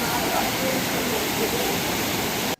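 Velakkundu waterfall in Kerala pours water from a height over rock, producing a loud, steady, unbroken rushing roar that fills the whole stretch without pause.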